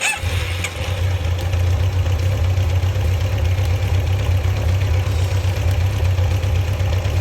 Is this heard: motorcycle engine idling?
yes